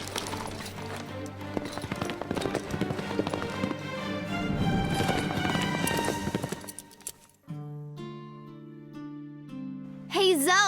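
Horse hooves clip-clop in an animated horse-riding cartoon, a steady rhythmic patter mixed under music for about seven seconds before the music shifts to sustained tones.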